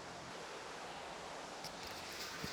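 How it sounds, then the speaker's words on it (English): Water trickles in a little river inside the Eden Project rainforest, a soft, continuous hiss that stays even throughout, heard faintly at a distance with no talking. "You might hear some water trickling."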